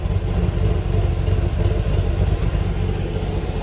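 A cammed single-cab truck engine with stock exhaust idles steadily with a deep, lumpy rumble, loud and close, with no talking.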